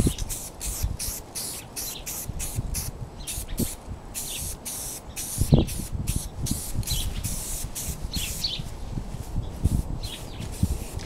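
Rust-Oleum spray paint applied as base coats to used motorcycle parts, a series of short hissing bursts with brief gaps between them, close and fairly loud, with no voices.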